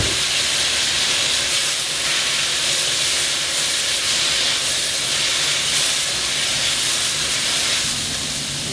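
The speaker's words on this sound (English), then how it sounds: "I like to add a little bit of water." A loud, continuous steamy hiss and sizzle of water added to a hot pan fills the whole stretch, steady and close without pauses.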